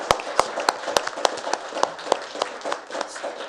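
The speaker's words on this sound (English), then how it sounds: "I would like everyone here to give these individuals a big round of applause for stepping up." An audience at the Allen Park council meeting applauds with distinct individual claps, several sharp, regular hand claps over a soft bed of wider clapping, moderately near and alone without speech.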